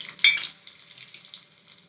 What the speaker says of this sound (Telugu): ఉసిరికాయ పచ్చడి తాలింపు పెట్టుకుందామండి